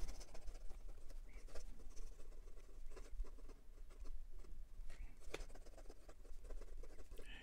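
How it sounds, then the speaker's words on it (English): A Jinhao fountain pen nib scratching quickly across paper, faint close-up patter of short strokes and taps in a quiet room. "And for some quick writing."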